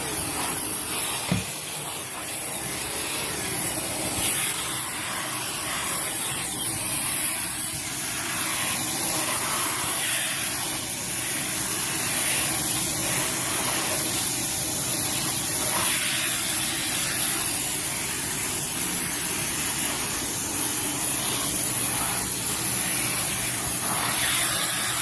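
Dyson Cinetic Animal vacuum with a tangle-free turbine tool cleaning carpeted stairs, giving a continuous high airy whine and hiss with faint shifts in tone as the head moves, no talking.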